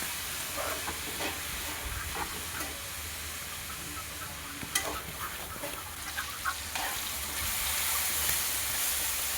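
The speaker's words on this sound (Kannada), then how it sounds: "ಹಾಕ್ಕೊಂಡು ಅದನ್ನು ಎಣ್ಣೆಲಿ ಚೆನ್ನಾಗಿ ಬೇಯಿಸ್ಕೋಬೇಕು ಸೊಪ್ಪನ್ನು" Greens frying in hot oil for rice upma, a steady broadband hiss and sizzle throughout with a few soft clicks and scrapes, moderately close and with no talking.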